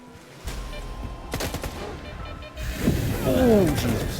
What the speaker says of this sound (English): What are you shooting at? Conserve ammo, perhaps?